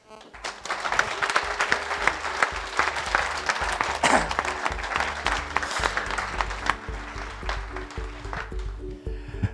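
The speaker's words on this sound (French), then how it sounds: "j'aimerais qu'on l'applaudisse" An audience at an afternoon event in France gives sustained applause, a rough, dense clapping texture with rhythmic music thumping underneath for the full stretch.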